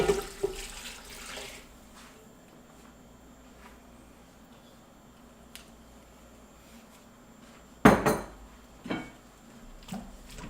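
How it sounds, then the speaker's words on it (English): Water poured into a hot pan holding oxtail and seasonings gives a sudden loud sizzling burst late in the clip, then trails off into scattered kitchen clatter over a low steady hum. "add a little bit of water to the pan so we can get all the seasonings and not waste anything"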